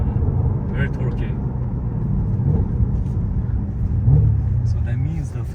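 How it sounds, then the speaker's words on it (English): A Cadillac CT5-V Blackwing with a six-speed manual gearbox accelerates with a deep, steady engine rumble heard from inside the cabin while occupants talk. "So, what do you think about the acceleration? Oh, it's pretty fast."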